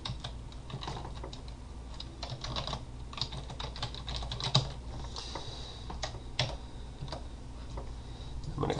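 Fingers typing a folder name on a computer keyboard, quick close clicking keystrokes in uneven bursts with short pauses, quiet and free of talk.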